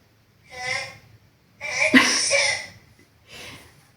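A single loud sneeze with a quick inhaled buildup, followed by a softer breathy sound, close to the listener in a quiet room.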